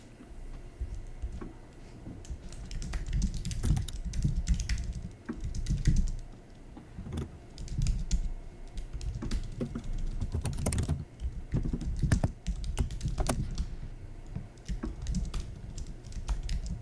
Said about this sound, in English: why are you typing so hard?